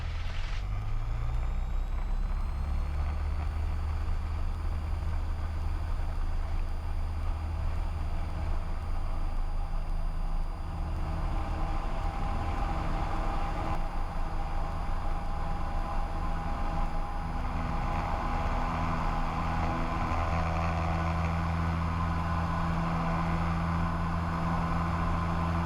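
A small training airplane at full throttle on its takeoff roll gives a loud, continuous engine roar with a rising whine early on. The roar holds steady throughout, with no voices.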